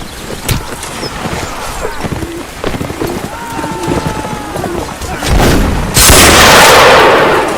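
Musket gunfire in the video game Mount & Blade Warband Napoleonic Wars: scattered sharp shots crack around a player, followed near the end by a loud, sustained burst of noise. A voice speaks now and then.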